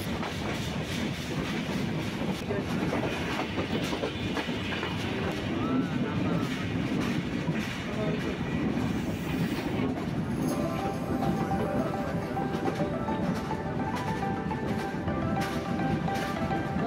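Passenger train running on rails toward Rajbari, Bangladesh, heard from inside the carriage: steady rumbling roar with rhythmic clickety-clack of wheels, continuous and loud, with faint voices mixed in.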